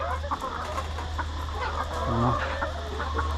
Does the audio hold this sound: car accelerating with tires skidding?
no